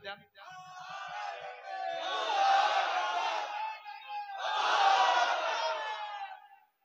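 A large crowd at an Islamic sermon roars the takbir in unison, two long, loud collective shouts, each following a single leading call.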